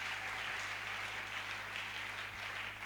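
Church congregation at a convention applauding and cheering for the Lord, a dense, steady wash of clapping throughout, fairly faint and diffuse.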